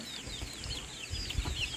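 Rhode Island Red chickens cluck and murmur in a short, steady burst, with soft overlapping calls and a few higher chirps close by on a farm, no talking.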